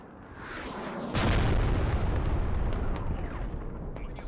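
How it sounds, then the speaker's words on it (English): Two FAB-250 bombs dropped by an Su-25 in a precision strike in the game Squad, with a sudden heavy blast and a long rumbling roll that slowly fades. "This strike is meant to be an Su-25 dropping 2 FAB-250 bombs on a precise area"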